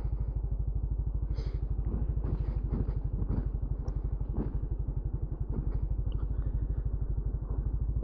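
A motorcycle engine thudding steadily in low gear while descending a muddy slope near Villa Aurora in the Sierra Madre, a close, even pulsing rumble with scattered clatter and knocks throughout.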